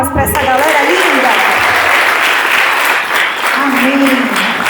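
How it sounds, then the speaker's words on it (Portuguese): Church congregation applauding the events team, loud continuous clapping through most of the stretch with voices and cheering mixed in above it. "será que você pode dar uma salva de palmas para essa galera linda?"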